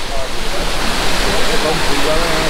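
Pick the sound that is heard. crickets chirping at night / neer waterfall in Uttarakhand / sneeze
neer waterfall in Uttarakhand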